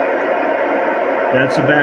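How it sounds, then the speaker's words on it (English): Steady hiss of open-squelch static from an amateur radio receiver fills the clip at a constant level, with a brief tonal burst near the end. "that's background noise. My squelch is open."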